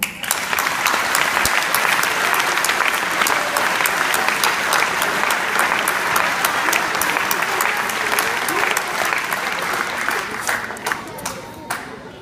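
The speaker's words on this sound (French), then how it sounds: "Donc déjà, applaudissements." Audience applause at a celebration held in a dojo in Neuilly-Plaisance, with loud, sustained clapping from a sizable crowd and sharp individual claps standing out near the end as it thins.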